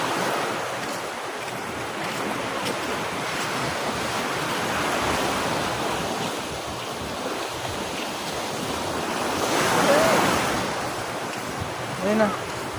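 Ocean waves roll onto a wide, open beach, a steady broadband wash of surf mixed with wind buffeting the microphone, swelling louder toward the end.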